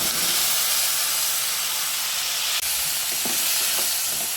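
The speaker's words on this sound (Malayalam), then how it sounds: "അപ്പോൾ കുറച്ച് നേരം നമുക്കിതിലൊന്ന് വഴറ്റിയെടുക്കാം" Lemons sautéing in a pan with their juice and a pinch of turmeric give a loud, steady hiss and sizzle throughout, with a couple of faint stirring knocks near the end.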